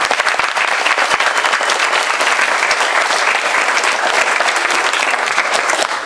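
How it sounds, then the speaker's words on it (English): A commencement audience bursts into dense, sustained applause for graduates, loud and even throughout with no speech over it. "give them all an applause."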